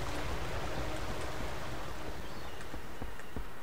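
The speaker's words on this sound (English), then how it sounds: "There's a waterfall nearby." Rushing waterfall near Booty Bay in World of Warcraft, a dense, even roar of falling water holding steady throughout, close and broad with no voices.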